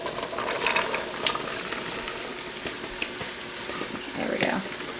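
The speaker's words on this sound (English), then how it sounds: "So here goes all of our veggies." Chopped vegetables and beets bubble and simmer in a pot of borscht, a soft continuous boiling hiss with faint stirring clatter, close and low in level beneath a murmuring voice.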